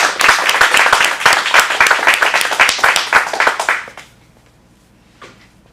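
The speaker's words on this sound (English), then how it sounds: "Let's give him a round of applause." Audience at an acting studio showcase claps after a scene, a close, lively burst of individual hand claps that stops abruptly about four seconds in, leaving near silence with a faint sound later.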